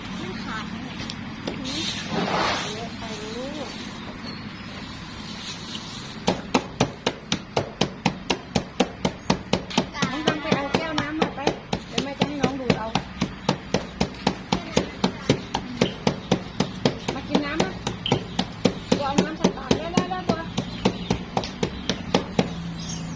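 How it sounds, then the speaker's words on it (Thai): A vitamin C tablet being pounded and crushed fine, a long run of rapid, regular sharp knocks at close range, following a stretch of talking and noise at the start. "แม่ใบเตย เอาตำให้มันละเอียดก่อนลูก"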